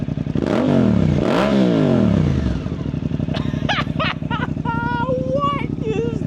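A Suzuki GSX-8R with a Yoshimura exhaust, warmed up, giving two sharp rising-and-falling revs, then settling into a loud, lumpy idle, close up, while people react in excited voices over the engine.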